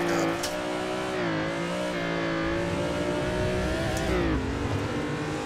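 A drift car's engine revving in Assetto Corsa, a loud sustained buzzy drone that rises and dips in pitch through the corner, with brief tire squeals and faint talking underneath.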